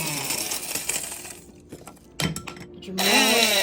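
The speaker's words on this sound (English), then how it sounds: "we're going to grind them up for the butter" Dehydrated morel mushrooms being ground to powder in an electric grinder, a loud close whirring motor that stops, followed by a few clattering knocks, then starts whirring again.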